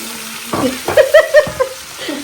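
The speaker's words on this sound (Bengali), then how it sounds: "এখন এখানে তেলের মধ্যে ঘির মধ্যে পেঁয়াজ দিয়ে দিল, এটা দিয়ে নাড়বো।" Sliced onions sizzle in hot oil and ghee in a home kitchen while preparing iftar, a steady close hiss broken by four or five quick scraping stirs of a spoon against the pan.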